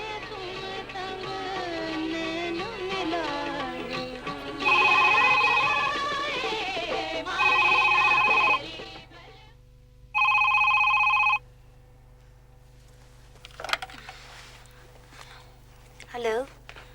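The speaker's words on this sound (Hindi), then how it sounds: "अरे जमाल, बहुत देर से फोन उठाया।" A telephone rings in a domestic scene, several loud electronic ring bursts separated by pauses, following a stretch of background music and ending in quieter rustling.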